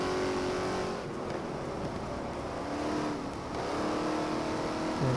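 A race car engine in the racing game GT Legends holds steady high revs through third and fourth gear, loud and close, with a brief dip and rise in pitch as it shifts, no voices.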